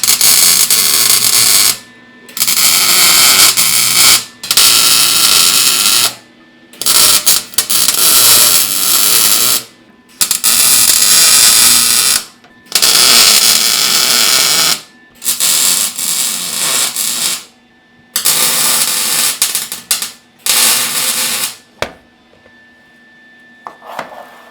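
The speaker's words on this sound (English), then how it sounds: "we're going to go ahead and tack the tube to the plate" Tack welds join a steel tube to a plate in a series of roughly ten loud, crackling arc bursts, each lasting one to two seconds and separated by short silent gaps.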